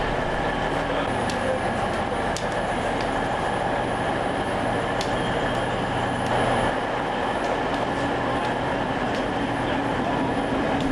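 Platform ambience at Ghent St. Peters railway station: a continuous dense rumble of trains and the station, with faint high squeals and clanks scattered throughout.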